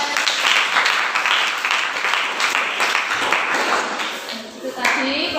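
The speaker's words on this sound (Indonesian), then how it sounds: "Beri tepuk tangan untuk Mas Tegar." A classroom audience claps after a student's poetry reading, a loud, busy patter of many hands that fades toward the end, with voices chattering underneath.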